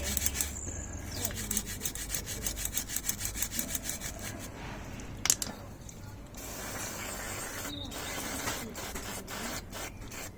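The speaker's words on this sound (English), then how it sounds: "I'm just giving everything a clean in situ." Brake parts on a Honda CBF1000 motorcycle being cleaned in place, rhythmic close scrubbing and rubbing strokes with hissing sprays and brief clicks, fairly quiet.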